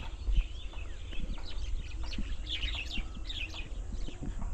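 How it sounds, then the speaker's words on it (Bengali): Several myna birds in trees by the Halda river chirp and twitter in quick, overlapping bursts over a low steady background rumble, fairly close and lively throughout. "কিচিরমিচির শব্দ অনেক দারুণ লাগতেছে"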